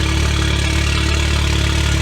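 Audi S3 sedan with EA888 engine idling through a Stone Valvetronic catback exhaust with the valves open, a loud, steady, deep pulsing burble heard up close without pause or talk.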